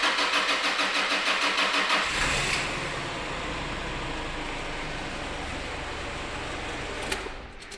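A Nissan Navara engine with a crankshaft position fault cranks with rapid rhythmic turning, catches after a couple of seconds, then settles into a steady idle close by.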